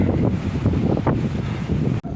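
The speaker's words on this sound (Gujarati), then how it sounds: "પવન એટલો છે એટલે આ પવનનો અવાજ વધારે આવતો હોય છે તમને બધાને" Strong wind buffets the microphone on a farm in loud, rumbling low gusts that rise and fall continuously, with no speech.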